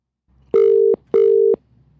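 A telephone ring tone sounds twice, each a loud steady electronic burst of about half a second with a short gap between, alone with no voices.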